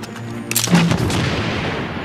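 A mortar round explodes in the video game Assassin's Creed Unity, a sudden loud boom that rolls into a long rumbling decay, preceded by brief shouting ambience.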